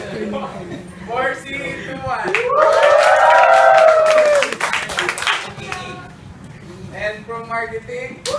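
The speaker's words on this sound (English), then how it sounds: "Can I hear some cheer from MPE?" A crowd at a workplace diversity training program cheers and claps, swelling into loud sustained whooping and applause in the middle, with a host talking before and after.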